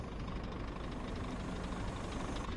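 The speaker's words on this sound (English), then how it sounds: "let me park up, switch my engine off." A truck engine idles in On the Road Truck Simulator, a steady low rumble with a faint knocking texture that stays constant and even throughout, with no talking.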